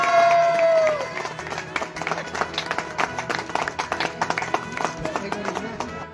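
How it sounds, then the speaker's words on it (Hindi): Guests clap during an engagement ring ceremony, uneven, individually distinct claps close by that grow more scattered toward the end, with a voice speaking briefly at the start. "तालियां।"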